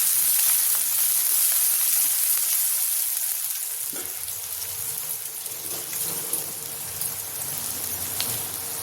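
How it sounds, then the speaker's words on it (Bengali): Chopped onions frying lightly in a pan give off a bright, continuous sizzle and hiss, loud at first and then settling a little lower, with faint stirring noises and no one speaking. "পেঁয়াজটা হালকা ভেজে নেব।"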